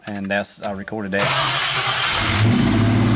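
A 1986 Foxbody Mustang fitted with a new SVE mini starter cranks and catches with a loud, steady churn right after a short stretch of someone talking.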